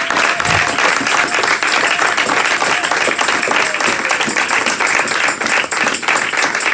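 A Sunday church congregation claps and applauds loudly and continuously, a dense, steady wash of many hands close by, with some cheering mixed in.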